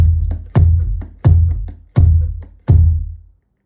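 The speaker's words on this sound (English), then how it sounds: "This kick drum is a lot smaller than a lot that you'll see because it's electric" An electric kick drum on a drum kit is struck five times in an even, steady rhythm, each deep, booming thud decaying quickly, with lighter hits between them, loud and close with no voices.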